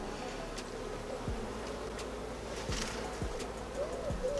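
A steady, close hum of many honeybees buzzing on a hive frame, with occasional louder passes as individual bees fly near.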